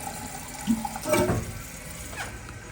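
Water runs into a toilet tank refilling through a newly installed fill valve, a steady hiss and trickle with a brief louder gush in the middle, close and unaccompanied by speech.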